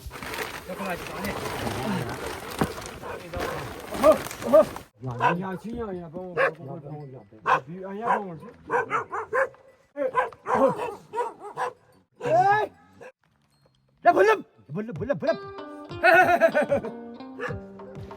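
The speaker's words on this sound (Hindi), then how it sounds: "इतने में जोर जोर से कुत्ते भौंकने लगे" Dogs bark and yip repeatedly in irregular bursts, mixed with people talking over them.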